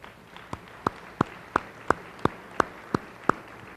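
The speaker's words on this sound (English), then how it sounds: "Let's give all these businesses a round of applause as well." At a chamber of commerce banquet, steady single claps ring out about three times a second, evenly spaced and fairly faint, applauding sponsoring businesses against a quiet room.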